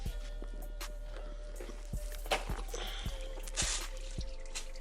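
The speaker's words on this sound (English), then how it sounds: "That's still draining, so I'm gonna let that drain." Liquid draining and dripping during a repair job, with slow, irregular drips falling at intervals, faint and close, over a low steady hum.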